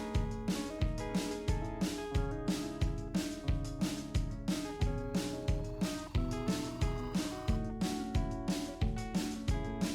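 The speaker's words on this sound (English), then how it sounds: "So with those like little percussion loop and little drums, this is what this part sounds like with the guitar melody as well." A looping beat of punchy drums and light percussion drives steadily under a distorted guitar melody, the rhythm repeating evenly throughout.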